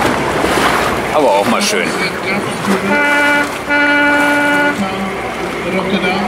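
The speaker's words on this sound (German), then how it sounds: "da hupen hier schon die Leute, die am Rand in dem Boot stehen" Boat horns from spectators at the Tall Ship Races blare in two sustained blasts amid wind and water noise, with people talking nearby.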